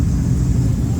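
A Ford F100 truck rolls past in an Australia Day car parade at Hastings, giving a deep, steady engine rumble close by. No one speaks over it.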